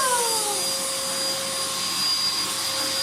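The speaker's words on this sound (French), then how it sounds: "C'est qui passe l'aspirateur?" A vacuum cleaner runs steadily at close range, a loud continuous whine with a droning motor tone and a pitch that slides briefly at the start, with no voices over it.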